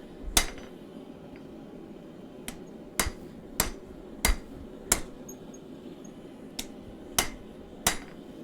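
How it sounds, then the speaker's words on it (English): A hammer strikes a knife blade during live forging, giving sharp metallic clangs, about ten in all, spaced irregularly with pauses between them. They sound close over a low background hum, with no talk. "A lot harder to hammer this particular part."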